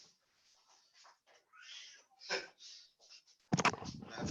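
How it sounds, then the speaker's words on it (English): A big cat meows repeatedly to be let in, a string of plaintive, drawn-out cries at varying lengths, followed by a louder burst of rustling noise at the end. "I have a big old cat, and if he wants to come in, he don't stop shouting"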